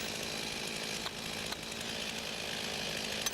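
A chainsaw makes a felling cut through a tree, its engine roaring in one loud, continuous drone for the whole stretch.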